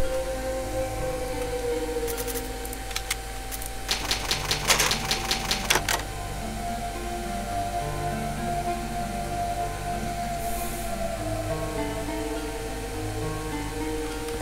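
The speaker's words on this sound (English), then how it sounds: "It's an old typewriter to save my progress." Old typewriter in the Resident Evil HD Remaster video game, heard as a quick burst of sharp key clacks over a steady ambient music drone, then a faint ding later.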